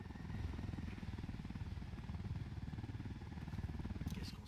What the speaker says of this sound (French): Descends un peu vite les hélicos.